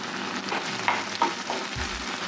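Chopped tomato and curry leaves fry with browned onion in a pan for aloo matar masala, giving a steady sizzle with a few knocks and a stirring scrape near the end.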